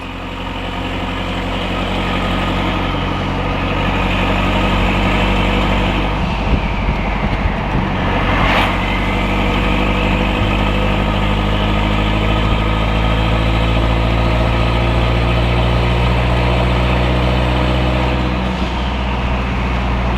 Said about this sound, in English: The blow-up valve turbo noises, this thing is awesome.